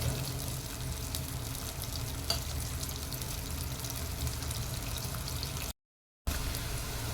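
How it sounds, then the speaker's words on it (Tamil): Onions sautéing in a pan until light golden brown for garlic chicken gravy: a soft, continuous hissing sizzle at low volume, briefly cut to silence near the end, with no voices. "வெங்காயம் வந்து நல்லா லைட் கோல்டன் ப்ரௌன் கலர்ல வர வரைக்கும் நம்ம வதக்கிக்கணுங்க"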